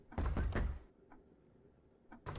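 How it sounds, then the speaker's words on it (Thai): An in-game door opens in the horror video game Who's at the door?, with a loud cluster of clattering, knocking creaks at the start, then a quiet stretch and a few fainter knocks and thuds. "อันนี้เสียงประตูปกติปะ"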